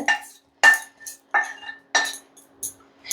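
A spoon scrapes and clinks against a metal vessel while mixing pumpkin erissery, a kerala dish with roasted coconut, in about five sharp, evenly spaced strokes, close and clear with no talking.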